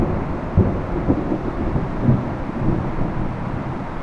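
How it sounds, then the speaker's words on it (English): Hail pelting down during a storm on a lake, a dense, steady roar of impacts with low rumbling gusts and a few heavier knocks throughout. "That's hail. You hear it? That's hail. Dang, it's hailing."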